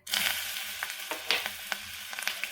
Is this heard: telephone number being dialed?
no